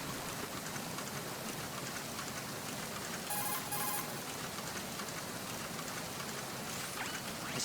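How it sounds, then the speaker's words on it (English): Steady rain in Metal Gear Solid 2 hisses as a dense, even wash with slightly muffled patter, with a brief electronic beeping tone cutting in midway, no talk. "if you listen to the rain sound, it kind of gets a little bit more muffled here"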